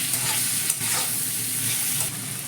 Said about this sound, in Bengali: টমেটো পেঁয়াজে লবণ দিলাম, চিনি দিলাম। এবার ভালো করে নেড়ে নেব।